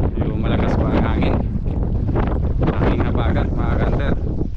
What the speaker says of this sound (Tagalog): Yung malakas pa ang hangin,